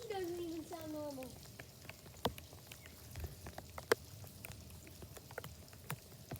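Rain falls outdoors around a batting tee, with faint, sparse raindrop ticks and taps scattered over a quiet background after a brief tonal sound at the start.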